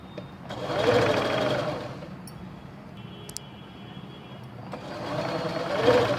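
A sewing machine stitches along a fused kurti neckline in two steady humming runs, slowing to a quieter idle between them, close and fairly soft.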